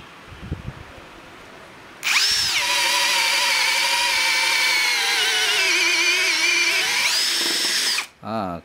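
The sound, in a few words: Mark-X brushless drill driver drilling treated pine pallet wood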